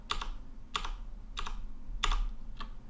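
Keys clacking on a computer keyboard in short bursts, about five clusters of taps spaced roughly half a second apart, close and fairly quiet with no talking.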